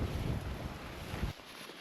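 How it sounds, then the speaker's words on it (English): Wind gusting across a rocky mountain trail between boulders in Haleakalā National Park, a loud steady rush buffeting the microphone that drops off abruptly near the end. "As the wind picks up a little bit."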